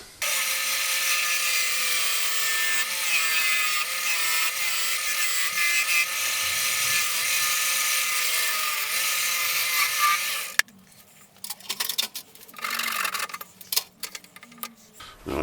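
A power saw cuts a section off a wood blank for a turned Christmas ornament, a loud steady whine for about ten seconds, then stopping abruptly into scattered clunks and handling noises.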